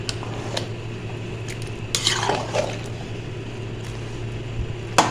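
A spoon scraping and clinking against a metal pressure cooker as mustard greens with chillies are stirred for sarson ka saag, with soft squishy mixing sounds over a steady low hum.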